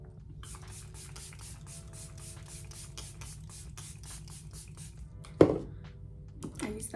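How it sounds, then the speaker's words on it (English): Makeup setting spray comes out in a rapid series of about fifteen short, close hissing bursts, followed by a louder thump and some handling noise. "Now I'm going to spray and really set everything together."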